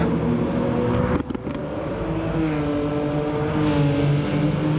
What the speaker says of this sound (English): Also, someone's got a popping exhaust.